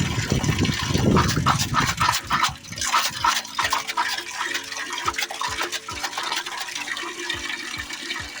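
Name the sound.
water flowing from pipe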